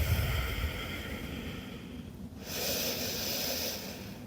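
Slow, deep breathing during a yoga flow: a long, soft exhale fades to a brief pause, then a steady breathy inhale follows, close and quiet with no talking.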